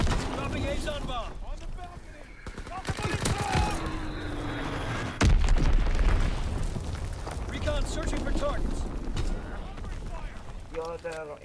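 Booming explosions and rolling rumble from an Azon bomb drop in a World War II shooter, dense and loud throughout, with a heavy blast about midway and voices talking underneath.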